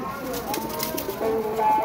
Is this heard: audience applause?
no